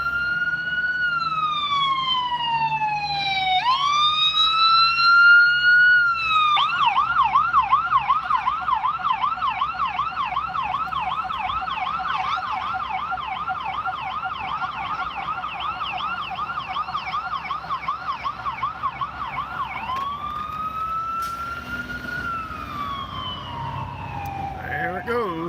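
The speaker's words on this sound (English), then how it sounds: "Oh, here comes the ambulance." An ambulance siren wails continuously, sweeping up and down in a rapid warbling pattern, loud and close, then shifting to a slower wail as it passes.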